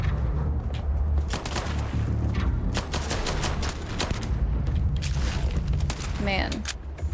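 Gunfire in the video game Starfield comes in loud, rapid bursts of repeated shots with booming low rumble and sharp cracks, dense and close, with occasional speech underneath.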